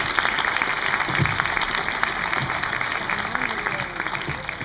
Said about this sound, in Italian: Un applauso per Teresa